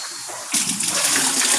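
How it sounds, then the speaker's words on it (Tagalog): Water rushes and splashes steadily after a short quiet start, a close, continuous gushing drain from a koi pond filter bucket. "i-drain na po natin yung tubig dito"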